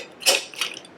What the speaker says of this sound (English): I can just unscrew the stove.